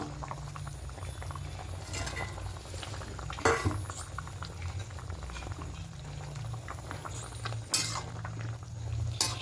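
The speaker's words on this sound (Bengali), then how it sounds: "দেখুন ঝোলটা ফুটছে" A thin tilapia curry with papaya and potato bubbles steadily in a pot, a continuous close boil with occasional light clinks of utensils against the pot, and no talking.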